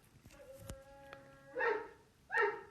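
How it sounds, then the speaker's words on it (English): Dogs bark indoors in the background, two muffled, fairly faint barks spaced under a second apart following a quieter stretch of household noise. "I'm just going to go and get my dogs to shut up."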